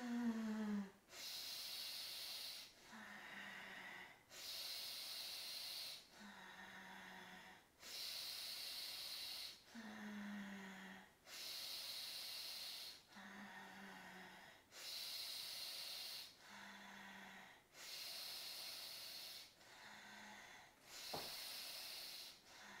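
Slow, paced breathwork exercise breathing, with long hissing exhales alternating with softer inhales in a regular rhythm, about ten breath cycles heard close up and alone.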